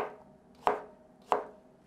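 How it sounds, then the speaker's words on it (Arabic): Knife chopping vegetables by hand on a board for a coarse-cut fattoush salad, two sharp distinct cuts evenly spaced, close and crisp over a quiet kitchen background. "وعندي بندوراية وحدة كمان بدي أقطعها تقطيع خشن"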